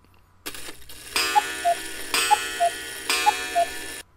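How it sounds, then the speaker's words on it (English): A cuckoo clock strikes three o'clock in three evenly spaced strikes, each followed by a two-note cuckoo call, with a faint steady ticking underneath. "It was his cuckoo clock, telling him it was 3 a.m"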